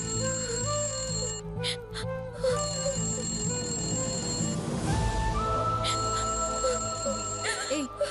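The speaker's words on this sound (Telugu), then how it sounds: "అమ్మ ఫోన్ చేస్తుంది." A phone ringtone plays a repeating melodic pattern for an incoming call, fairly close and clear, with brief pauses between phrases and some background voices in a TV drama scene.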